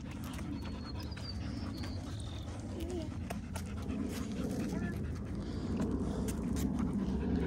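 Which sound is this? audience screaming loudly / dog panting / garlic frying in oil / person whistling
dog panting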